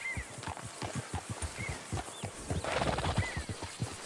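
Horse hooves clip-clop in a steady walking rhythm in Red Dead Redemption 2, with occasional whinnies and a brief denser burst of hoofbeats; close and moderately loud, with no talk over them.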